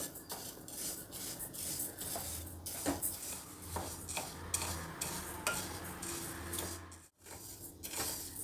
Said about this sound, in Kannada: ಹುರುಳಿಕಾಳು ಚೆನ್ನಾಗಿ ಫ್ರೈ ಆಗಿದೆ ಕಲರ್ ಚೇಂಜ್ ಆಗ್ತಾ ಇದೆ